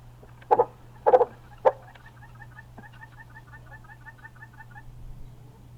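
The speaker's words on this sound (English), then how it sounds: "There's all the chickens and the guinea hens." Chickens and guinea hens outdoors, a few loud clucking calls early, then a faint repeated chattering call in the distance over a low steady hum.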